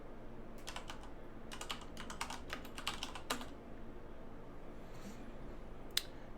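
Keys clack on a computer keyboard as a command is typed, a few quick bursts of tapping in the first half, then a lone click later, all fairly faint against a quiet room hum.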